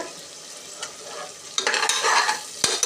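A spoon stirs coconut milk rice ingredients in a pan, scraping and faintly sizzling at first, then growing louder with busy stirring in the second half and a sharp clink near the end; no one talks.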